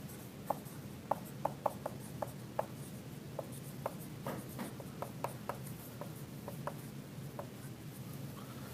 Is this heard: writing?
yes